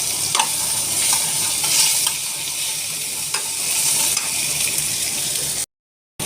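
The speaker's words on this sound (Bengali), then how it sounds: "টমেটো এবার একটু রসুন ফোড়ন দেব, রসুন বাটা" Garlic paste and tomato sizzle in hot oil with mustard seeds in a wok, a continuous crackling fry broken by a few scraping stirs, loud and close, ending in a brief silence.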